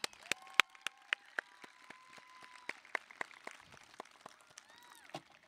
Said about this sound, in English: So for that, give yourselves a round of applause.